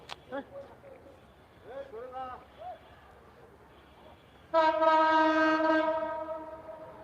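A few faint voices, then a loud, sustained train horn blasts nearby for a couple of seconds and trails off into rumble, during a rail blockade in Jessore.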